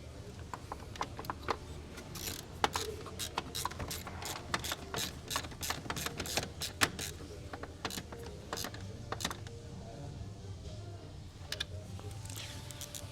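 Airbox repair kit fasteners on a Holden Colorado are tightened with a ratcheting tool, giving irregular quick clicking bursts over a low mechanical background, close and fairly quiet.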